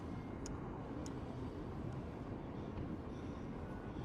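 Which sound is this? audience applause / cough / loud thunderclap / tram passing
tram passing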